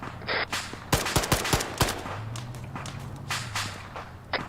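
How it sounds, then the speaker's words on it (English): Sharp single rifle shots from an SKS in ARMA 3 crack out in an uneven volley of about five, each a bright broadband snap with a short tail, followed by quieter distant reports and a low droning hum underneath. "We're getting shot at by, I think, an SKS of some form."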